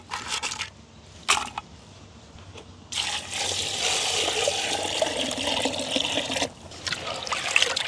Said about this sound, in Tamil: நண்டு நாங்கள் 2-3 தண்ணியில் கழுவணும் இல்லை, நல்ல வடிவாக ஒரு தண்ணியில் கழுவி எடுத்தாலே காணும்